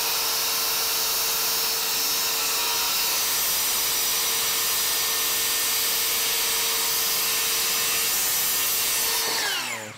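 A power saw cuts continuously through a wooden trailer floor board, a loud, steady whining rasp lasting nearly ten seconds before the blade finishes and spins down abruptly at the end.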